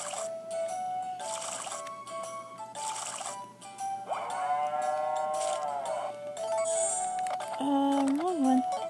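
A cartoonish cow in Harvest Moon gives several drawn-out synthetic moos over cheerful game music, with a few short chimes and a rising-falling tone near the end.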